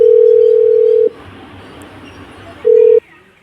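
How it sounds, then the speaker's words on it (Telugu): A telephone line sounds two steady electronic tones, one long and one shorter, separated by a quiet pause with faint background hiss. "లక్కీ అనుకున్న ఫోన్ చేద్దాం"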